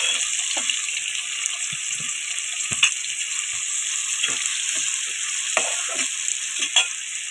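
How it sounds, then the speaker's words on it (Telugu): Onions and green chillies frying in oil for prawn biryani, a steady bright sizzle with scattered stirring scrapes and clicks throughout, close and fairly loud, no talking. "ఇది ఆయిల్లో రోస్ట్ అవ్వాలి."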